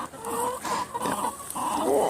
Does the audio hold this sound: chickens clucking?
yes